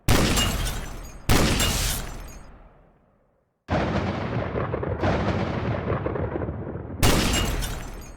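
Sniper gunfire in the video game Hotline Miami: loud, sharp blasts with crashing, shattering tails, two quick shots, then a silent gap before a sustained burst of noisy impacts and another sharp blast.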